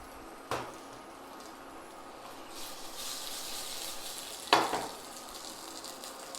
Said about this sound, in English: My fresh garlic in here. I'm just gonna let that cook and monitor it closely